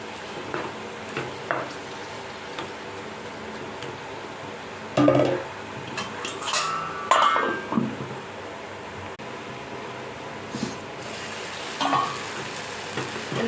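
Chutney ingredients with turmeric and salt bubble and fry in a covered pan, a continuous low sizzle with occasional louder stirring clatters and lid knocks, close and alone with no talk.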